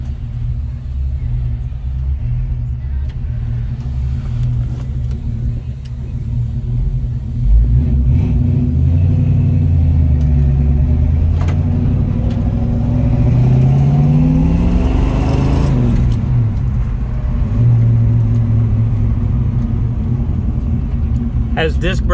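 A 1967 Ford Mustang with a 289 V8 idles with a steady low rumble, then revs and pulls away, its engine note rising and falling as it is driven and parked nearby.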